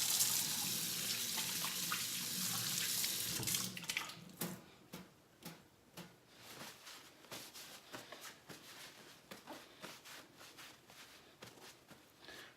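Hands washed with soap under a running kitchen tap: steady water flow at first, then the tap stops and wet rubbing, dripping and handling sounds follow, close and quiet.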